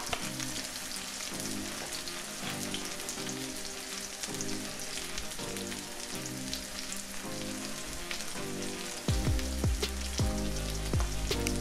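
Steady crackling sizzle of zucchini patties frying in hot oil in a pan, with music playing throughout and a heavier bass beat near the end.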